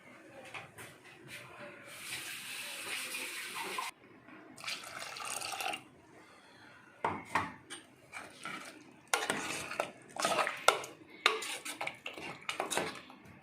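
A spoon stirs pumpkin and bean erissery with crushed shallot and cumin and added water in a metal pot, giving close intermittent bursts of scraping and clinking against the pot separated by quiet gaps.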